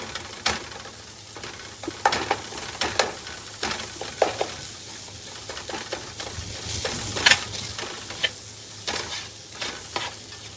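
Ripe tomatoes mashed and stirred in a frying pan with soya chunks, Kerala style: a steady sizzle with repeated scraping spoon strokes and clinks against the pan, close and fairly loud, with no talking.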